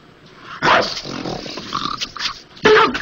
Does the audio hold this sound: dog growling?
yes